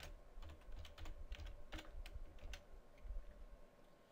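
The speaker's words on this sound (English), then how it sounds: "Then type in title." Typing on a computer keyboard while entering XML code: a steady run of quick, close key clicks with a few louder strikes, heard alone with no talking.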